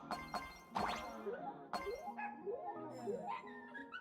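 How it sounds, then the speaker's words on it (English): A dog barks in a Honkai: Star Rail 4.2 story quest, with several sharp barks spaced across the stretch and followed by a tumbling run of game chimes and effects, fairly loud with no voices. "this barking is scaring me. It sounds like there's a dog in my house."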